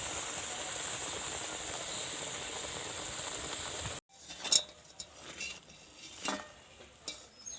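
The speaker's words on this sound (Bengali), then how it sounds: "একইভাবে সমস্ত বেগুনি আমি ভেজে নেব।" Battered eggplant slices, beguni, sizzle in hot oil with a steady hissing fry, then the frying stops and soft scraping, stirring knocks follow close by.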